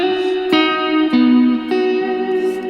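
Electric guitar played through a Sonicake Warped Dimension modulation pedal set to phaser with low depth: sustained chords struck about every half second, ringing with a gentle sweep and reverb tail.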